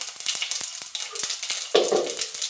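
Asafoetida hits hot oil with cumin during a tempering for sabudana khichdi, giving a steady, close sizzle with scattered crackling pops and a brief louder burst of frying partway through.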